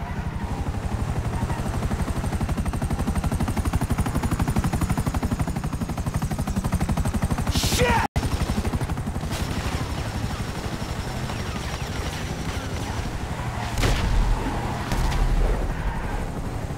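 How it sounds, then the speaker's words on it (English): A helicopter in GTA 5 whirs with a constant rhythmic rotor chop while rapid gunfire bursts crackle over it, with a sharp impact midway and heavier rumbling blasts near the end. "Another chopper!"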